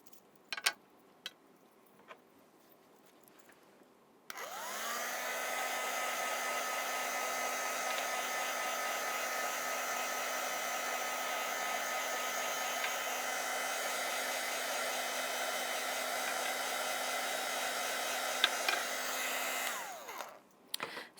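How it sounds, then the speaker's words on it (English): A heat gun blows for about fifteen seconds, drying paint on a mixed media plaque; a steady whirring hum switches on abruptly and cuts off, with quiet room sound around it. "I'm going to give it a quick blast with the heat gun just to dry it off"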